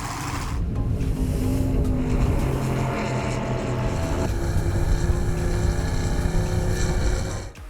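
A 50-foot carbon fiber Victory racing powerboat hull, built in Dubai for European racing, drones with a loud, steady engine roar that holds through the clip, shifting slightly in tone midway.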